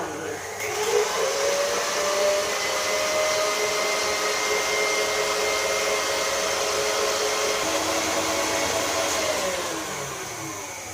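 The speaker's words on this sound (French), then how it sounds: "je vais mixer à fond jusqu'à ce que ça devienne une meringue" An electric mixer whips egg whites and sugar into meringue, a loud continuous whirring drone running at full speed for around ten seconds before easing off.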